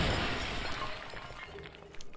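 A clay pot smashes in Dark Souls 2, with a sharp crash and shattering at the start, then scattered debris clatter fading over about two seconds.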